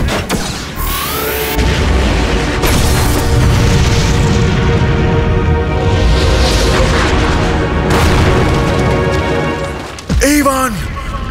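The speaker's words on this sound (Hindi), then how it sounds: "कार के कैनन में विस्फोट हुआ है।" A cartoon race car's cannon explodes in a long, loud roaring blast with crashing and booming bursts. An excited voice talks over it, then a sharp sweeping whoosh follows near the end.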